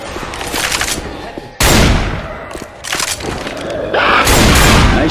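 Loud close gunfire in Left 4 Dead 2 during a Dark Carnival realism campaign, sharp bursts and heavy blasts in several clusters with brief lulls between, ending in a sustained volley.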